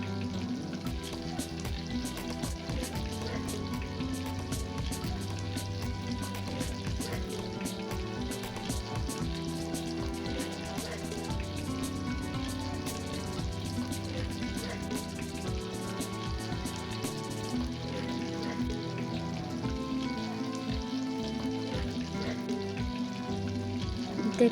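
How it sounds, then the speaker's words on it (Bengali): Chicken wings fry in oil, a constant crackling sizzle with dense popping bubbles that holds at an even, moderate level for the whole stretch, without voices. "হালকা বাদামি রং না হওয়া পর্যন্ত চিকেন উইংসগুলো ভেজে নেব"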